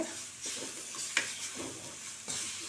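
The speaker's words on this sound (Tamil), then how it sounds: "நல்லா வதக்கி விட்டுக்கோங்க" Grated coconut sautéing with masala in a pan gives a soft, quiet sizzle broken by several scraping stirs of a spatula, one sharper clink near the middle.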